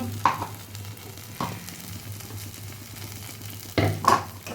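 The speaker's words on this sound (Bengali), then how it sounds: "এটা দিয়ে একটু নেড়ে নেব কাজু বাদাম বাটা" Cashew nut paste for an egg korma sizzles in a pan while being stirred, with a low, steady fry hiss under a few sharp clanks of the spoon on the pan, close by, and no talking.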